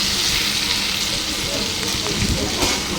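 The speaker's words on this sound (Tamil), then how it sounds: "வெங்காயம் நல்லா வதங்கினதுக்கப்புறம் தக்காளி 3 அறுத்து வச்சதை போட்டுருங்க. தக்காளியும் நல்லா வதங்கட்டும்." Onions and tomatoes sauté in oil in a pan for sambar, crackling and sizzling steadily up close at a moderate level, with no talk over it.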